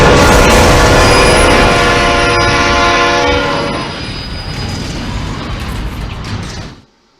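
A loud, sustained horn from an Amtrak passenger train sounds over rumbling rail noise for about three and a half seconds, then the train rumble carries on alone before cutting off abruptly.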